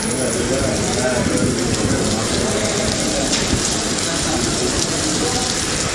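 Heavy rain pours down in Chennai as a loud, dense, unbroken hiss of drops hitting surfaces, steady for the full six seconds.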